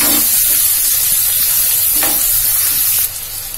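Finely chopped onions fry in hot oil in a pan for a chicken curry, a loud, close, continuous sizzle and crackle that softens slightly near the end, with no talking.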